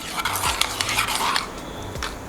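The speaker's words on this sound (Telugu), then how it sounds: "చట్నీని వేసుకొని ఒకసారి కలపెట్టుకుందాము" A spoon stirs coconut peanut chutney in a bowl, with repeated close scraping and clinking against the vessel and a faint sizzle behind, no voices.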